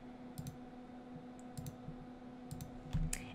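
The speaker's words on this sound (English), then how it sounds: "I'm just gonna click on them real quick." Computer mouse clicks made while Control-clicking names to open browser tabs, about five quick, faint, close clicks spaced irregularly over a low steady hum.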